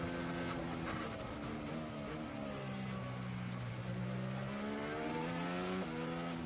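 A high-pitched Formula 1 engine drones steadily from the cockpit, heard through the airbox overhead, its pitch sliding down and climbing back up with gear changes, at the 2017 Singapore Grand Prix.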